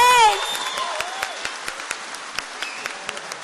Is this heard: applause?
yes